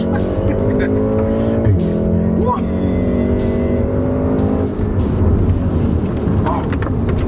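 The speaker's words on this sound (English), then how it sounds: "Gas pedal, rev" A Volkswagen Golf MK7 R engine revs loudly, its note sweeping up and settling over several seconds, with people talking and reacting over the engine.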